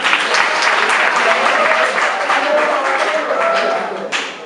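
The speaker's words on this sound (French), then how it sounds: "Je voudrais qu'on les acclame encore une fois." An audience at a ceremony applauds the authorities in sustained, dense clapping that holds steady and then fades slightly near the end.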